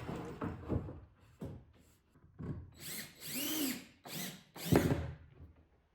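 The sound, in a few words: power drill driving drywall screws into wood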